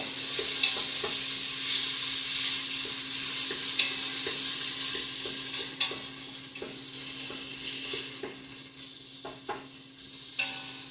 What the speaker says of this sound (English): grab our wooden spoon and just stir that. Make sure all your veggies are coated in the oil.